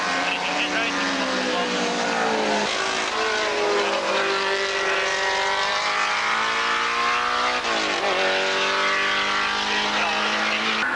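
Racing cars, including a Ginetta G4 and a little Mini, pass one after another on a motorsport circuit, their engines rising and falling in pitch as each goes by, loud and continuous under an announcer's commentary.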